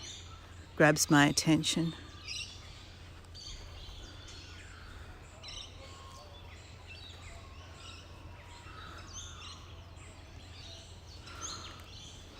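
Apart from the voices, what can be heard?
magpie call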